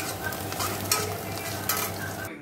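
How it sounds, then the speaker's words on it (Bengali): Egg, onion and chilli fry in butter and oil, producing a bright, steady sizzle close by, punctuated by a few sharp scrapes of a spatula stirring before it stops abruptly. "ডিমটা দিয়ে পেঁয়াজ লঙ্কাটা ভেজে নিচ্ছি।"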